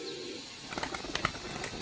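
Soft cooing from a Rajshahi Giribaz pigeon, a few close low throaty coos over a faint background hum.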